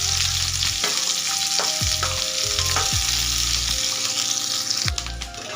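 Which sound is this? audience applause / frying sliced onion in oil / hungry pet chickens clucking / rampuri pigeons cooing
frying sliced onion in oil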